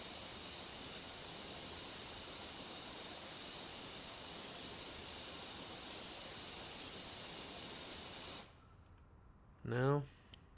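A long, loud continuous hiss of WD-40 spraying for about eight seconds, then cutting off abruptly, followed by a brief voice.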